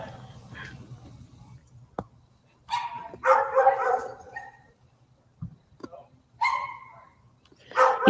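Four dogs penned together bark in short separate bursts, moderately close, with sharp yips between quieter stretches and a faint steady hum underneath.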